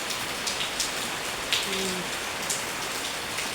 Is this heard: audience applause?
no